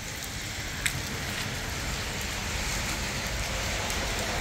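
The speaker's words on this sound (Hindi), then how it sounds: "बारिश आहिस्ता आहिस्ता कभी पिक कर रही है कभी।" Rain falls steadily on a rainy day in Fujairah, UAE, a continuous close hiss of drops on surfaces with a few sharper individual drip ticks standing out, no voices over it.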